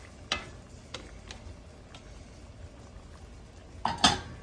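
A lid goes onto a pan of simmering chopsuey vegetables with a clear metallic clatter near the end, after a few lighter clinks and taps against a soft bubbling background.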